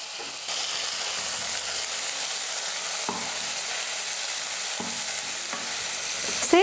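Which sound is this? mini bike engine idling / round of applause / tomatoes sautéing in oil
tomatoes sautéing in oil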